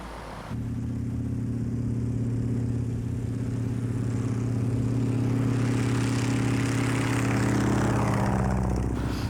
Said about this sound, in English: He flies a replica of the SE-5A, the plane my grandfather flew later in the war.